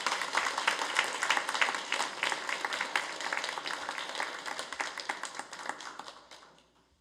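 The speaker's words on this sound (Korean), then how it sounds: "본당에서 믿음 생활 하셨는데 우리 박수하겠습니다." A church congregation gathered for a Sunday worship service breaks into warm applause, a dense patter of many hands clapping that fades out toward the end.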